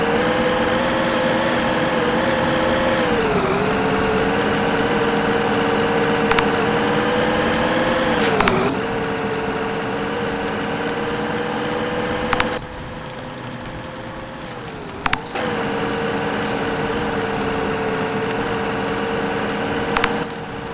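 A truck engine from Truck Simulator 2018 Europe on Android hums steadily as it drives, its pitch dipping and rising with gear changes, joined by occasional short clicks or ticks.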